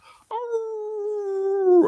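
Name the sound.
howl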